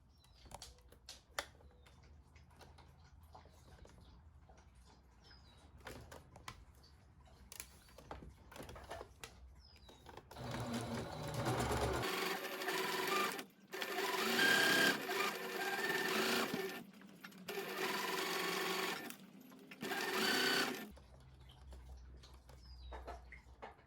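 A sewing machine runs a straight stitch along a half-inch seam on a thrifted scarf or hair accessory, starting after quieter handling noises and whirring loudly in several sustained bursts with brief pauses between them.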